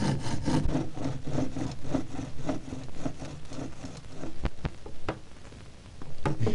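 A hand saw cuts steadily through wood at a gardener's hut, giving close, rhythmic back-and-forth rasping strokes that keep going, with no talking.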